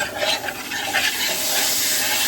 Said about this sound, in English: I'm going to start stirring this around because it's needing it